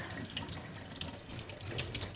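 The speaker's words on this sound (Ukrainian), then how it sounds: "Поки набирається водичка, набирається." Cold tap water gushes steadily into a container, a continuous bright splashing rush with no pauses.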